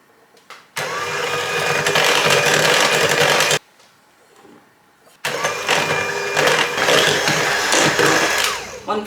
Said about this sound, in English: an electric mixer. A stand mixer will also work.